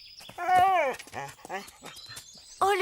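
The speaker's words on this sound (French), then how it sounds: "Oh, le gentil chien-chien." A dog whimpers and whines in a French comedy scene, a run of high, wavering whines with short gaps, fairly close, then another whine at the end.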